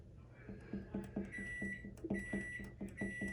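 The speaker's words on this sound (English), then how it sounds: "there's my timer" A kitchen timer sounding after ten minutes of scratch art, a rapid run of repeated electronic beeps in a steady rhythm, moderately loud and close with no talk over it.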